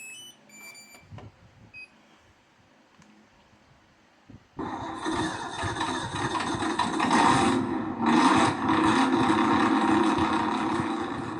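A V8 engine sound module fitted to a WLToys 104008 Ford Bronco RC car starts up and runs loud and steady, a continuous rumbling engine tone with a brief dip partway through.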